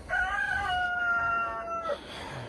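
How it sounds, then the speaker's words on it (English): A single rooster crows once on a farm in winter with snow on the ground, a long clear cock-a-doodle-doo at moderate distance, followed by quiet background. "Rooster's on point as always."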